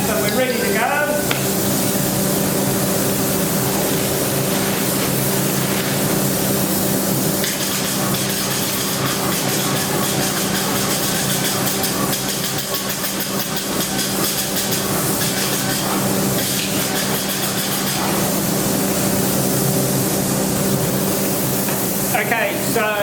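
A Graco E-10HP paint sprayer laying down stippling spray, a continuous loud airless hiss that runs steadily for over twenty seconds with a hum underneath and brief clicks near the start and end.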